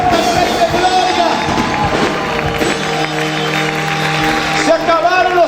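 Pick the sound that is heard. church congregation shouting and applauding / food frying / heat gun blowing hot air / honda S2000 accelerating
church congregation shouting and applauding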